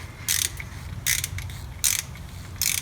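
A ratchet wrench clicks in four short bursts, loosening a spark plug on a 1970 Ford LTD; the clicks are close and evenly spaced over a quiet background.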